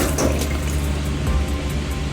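Water pours into a container while a coolant-versus-water test is set up, a close, continuous rushing splash with no pause.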